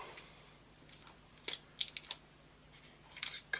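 Small scissors trim a printed Happy Easter card sentiment with a few quiet, crisp snips in short clusters close by, separated by near-silent pauses.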